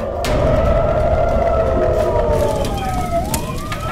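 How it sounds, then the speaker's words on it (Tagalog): Emergency sirens wail steadily with a rising and falling tone through Israeli streets during the Israel–Iran war, loud and close, over a dense rumble of street noise. "Ang mga sirena umalingaw-ngaw sa mga kalsada."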